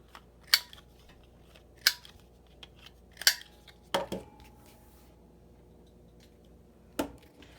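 A four-corner punch rounds the corners of a greeting card with sharp, crisp snaps, five or six separate clicks spaced irregularly, close and fairly quiet over a silent background.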